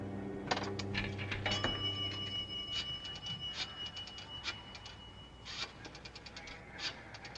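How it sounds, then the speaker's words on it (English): A nickel dropped into the slot of a payphone, heard as a run of metallic clinks and rattling ticks as the coin falls through the mechanism, with a faint ringing tone behind it and no talking. "Sheila dropped a nickel in the slot"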